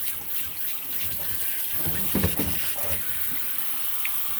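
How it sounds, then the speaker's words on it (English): Cold water from a kitchen tap runs over cooked lasagna noodles in a sink, a steady close hiss of flowing water with a brief louder splash partway through. "Now I'm going to take cold water and I'm run that on my noodles"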